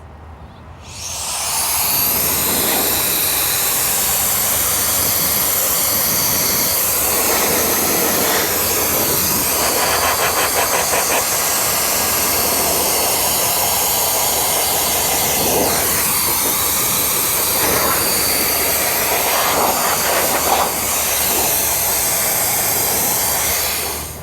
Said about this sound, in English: we'll just use the jet fan and blow it off